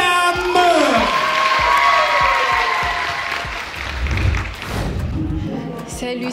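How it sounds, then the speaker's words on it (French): A thunderous round of applause with cheering and whoops from an audience at a semi-final stage show, loud and full, with a voice speaking over the start and a few heavy thumps. "On donne un tonnerre d'applaudissements pour Salam."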